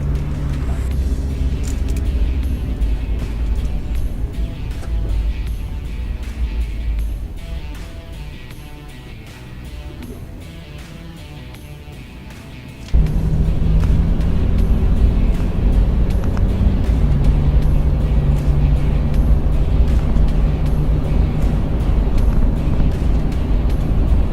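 A Toyota 4Runner rolls along on a test drive, giving a steady low road and engine rumble with wind noise that drops quieter for a stretch, then surges louder and more constant.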